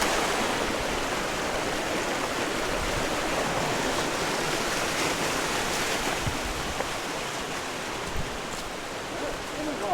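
A river runs through a rocky gorge in Victoria's High Country in Australia, giving a steady, loud, broadband rush of flowing water that holds constant for the whole stretch, with no voices.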